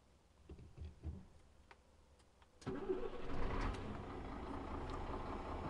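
A Scania 124 400 truck's diesel engine cranks after a few quiet clicks and knocks, then catches abruptly and settles into a loud, steady idle rumble close by.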